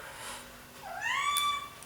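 A single cat gives a clear, rising meow of under a second, fairly close and alone against a quiet indoor background.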